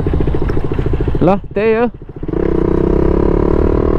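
A motorcycle rides along a road, its engine droning steadily under the rider's speech, with a brief change in engine note midway before the steady running sound returns.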